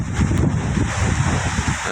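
Strong typhoon wind blasts across an open yard near cassava plants, a loud continuous roar buffeting the microphone with gusty swells.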